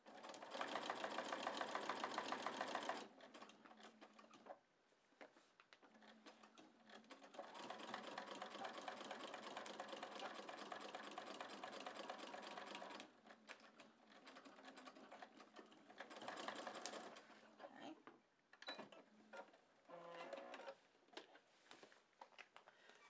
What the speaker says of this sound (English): I'm going to stitch right on this line from one end to the other